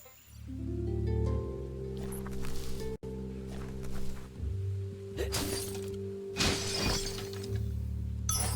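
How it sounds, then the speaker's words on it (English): A box being smashed in Biomutant: several crunching, splintering impacts in quick bursts over a steady low game ambience and music drone, fairly close and clear. "You shouldn't worry about smashing up the box"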